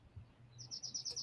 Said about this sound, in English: Did you hear that bird chirping? That sounds pretty.